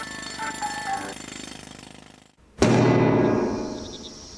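A jackhammer in a horror video game set in a forest pounds in rapid bursts, quieter at first, then after a brief gap it blasts back much louder and continues hammering steadily.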